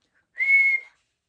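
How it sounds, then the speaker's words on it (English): A single short whistle, a clear steady tone lasting about half a second, alone in silence. "Everyone whistled, but not a breath of air stirred."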